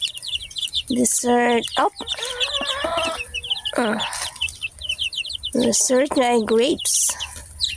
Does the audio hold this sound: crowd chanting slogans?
no